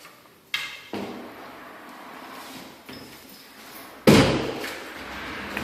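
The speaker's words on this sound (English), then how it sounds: "Closet doors move freely." Closet doors sliding and bumping in a home during a house inspection, with a few separate thuds and a louder knock near the end, then a steady faint rumble of movement.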